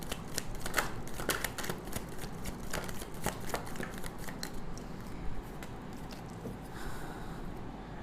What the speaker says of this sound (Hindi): एक ही शफल करती हूँ और उसी में जो कार्ड आते हैं आ जाते हैं।